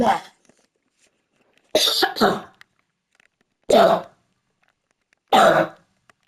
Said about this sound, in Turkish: Çok farklı öksürüktü.